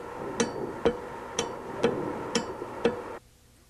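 Electrical fuel shutoff solenoid on a Bosch VE diesel injection pump switching on and off, six sharp metallic clicks about half a second apart over a low hum that cuts out at the end.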